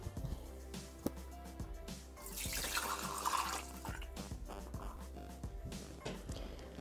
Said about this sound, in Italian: Senza lavare il boccale, mettiamo nel boccale l'acqua.